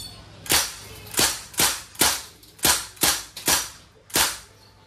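A Crosman MPW Bushmaster airgun fires on full automatic, with about eight sharp, loud cracks in quick uneven succession, each snapping off cleanly over a quiet background with no talking.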